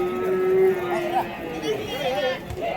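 A cow lows once, long and clear, at an open cattle market in Vaniyambadi, over a busy backdrop of chatter and crowd noise.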